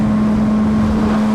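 A Suzuki GSXR 1000 with a new SC Project exhaust holds a loud, strained, steady engine note up close. The high-revving drone is sustained for the whole brief moment.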